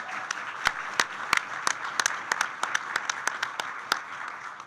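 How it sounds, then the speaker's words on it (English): Applause fills a church synod meeting hall, continuous group clapping with many crisp individual claps popping out irregularly above the steady wash, moderately close and sustained for almost five seconds. "You've heard the applause."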